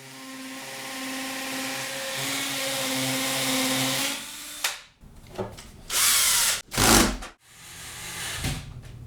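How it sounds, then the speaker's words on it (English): Power drill boring holes into a concrete block wall for Tapcon anchors, a loud sustained whine for several seconds followed by short bursts of drilling. "Now drill the next 4 holes"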